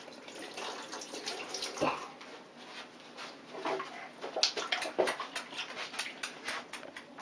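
A kitchen tap runs steadily while hands are washed under it before lobster thermidor is prepared, a close, continuous hiss of water with brief splashy surges and no voices.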